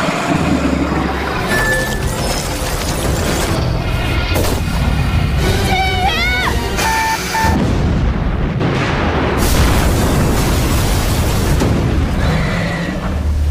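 A flare gun shot sets off a huge explosion that sinks a ship in a film scene, loud rumbling blasts and crashes layered over dramatic score, with a horse-like whinny and booming impacts throughout.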